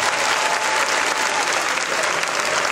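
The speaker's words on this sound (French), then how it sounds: "est-ce que tu peux applaudir pour toi-même?" Steady, full applause from an audience at a French-language career talk, many hands clapping in a dense unbroken wash at a consistent loud level.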